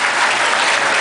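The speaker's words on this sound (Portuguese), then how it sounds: "Então vamos aplaudir vocês, frequentadores, amigos, colegas" Dense, steady applause from a crowd, loud and sustained throughout with no pauses.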